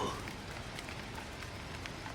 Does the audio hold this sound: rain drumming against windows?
yes